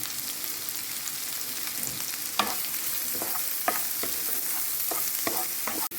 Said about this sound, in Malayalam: സവാള നല്ല വരണ്ട് വന്നിട്ടുണ്ട് വഴണ്ട് വന്നിട്ടുണ്ട്